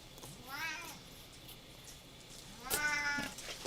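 Cats give two drawn-out meows a couple of seconds apart, the second louder and higher, heard close in a quiet indoor room.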